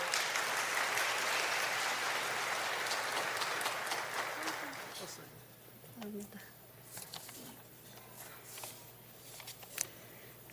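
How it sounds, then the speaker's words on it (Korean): A church congregation at a Sunday service claps for a member about to share her testimony, a broad wash of applause lasting about five seconds before fading to a quiet room with scattered small noises. "박수 한번 쳐드릴까요?"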